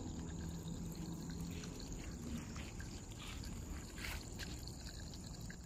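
Steady water splashing and trickling onto garden plants during routine watering, a continuous close wash of flowing liquid lasting throughout with no talking.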